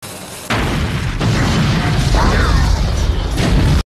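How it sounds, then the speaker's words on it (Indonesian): A loud, booming explosion of a container in the film The Terminator, with crashing, rumbling debris that fills the space and keeps roaring without letting up. "Kontainer itu pun meledak bersama si Terminator"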